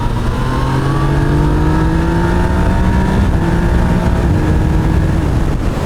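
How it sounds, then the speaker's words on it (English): A Yamaha Niken three-wheeled motorcycle accelerates hard through the gears with a quick shifter, engine pitch climbing then dropping at each rapid shift, loud and close with wind noise. "The next gear slips in really quick with no surprises, no nasty noises."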